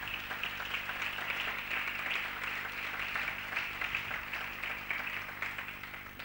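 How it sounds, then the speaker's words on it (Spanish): A congregation in a church service applauds a first-time visitor with steady, dense clapping that holds evenly for several seconds, moderately distant with no talk. "Vamos a darle un aplauso."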